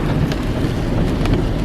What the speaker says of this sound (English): It just started pouring down rain.